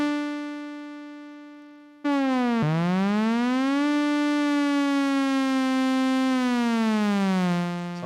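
Modal Craft synthesizer playing a bright, buzzy sustained tone with heavy glide, one held note that jumps and then swoops slowly up and down between pitches, loud and alone.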